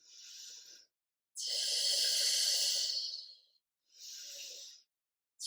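Slow, deep breathing during a hip stretch exercise: two inhale-exhale cycles, a long airy breath in the middle flanked by shorter ones, close and clear with no talking.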